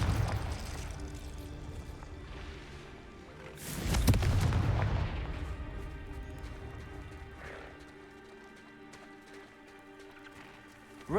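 A Confringo fire spell bursts in Hogwarts Legacy with one heavy, loud boom that rolls out and fades over several seconds, under a low game soundtrack.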